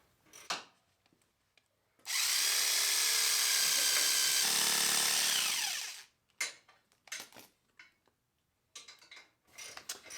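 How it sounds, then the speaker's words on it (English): A power tool trims the plastic grill cover of a 5th gen 4Runner in a single loud, steady whine lasting about four seconds. Quieter handling clicks and knocks come before and after it. "I'm going to trim the grill cover here."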